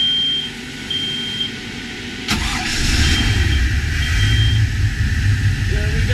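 A Bayliner 285 boat's 454 engine cranks and fires on a cold start, settling into a loud, steady idle rumble with faint beeps and some talk over it.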